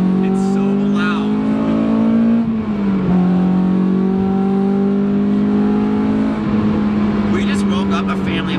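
A Honda S2000 AP2 engine revs hard up through its VTEC range while driving, a loud, rising mechanical wail with gear changes, heard from inside the car with people talking over it.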